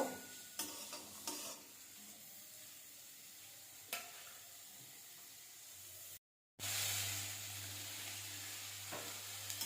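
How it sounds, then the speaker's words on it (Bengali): Vegetables being stirred in a hot pan for thukpa give a soft continuous sizzle with several scraping stirs. A brief dropout is followed by a louder, steadier frying hiss with a low hum underneath, and nobody speaks. "সবগুলো ভালোভাবে নাড়াচাড়া করে নেব"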